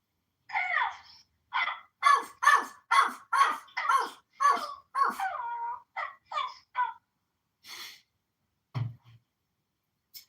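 A crowd of people imitates a dog barking, a quick run of loud, rhythmic woofs in bursts, tapering into a few scattered barks toward the end.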